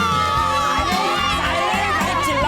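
A crowd of children shouting and chattering at a school, a dense, continuous din of overlapping young voices that stays loud throughout.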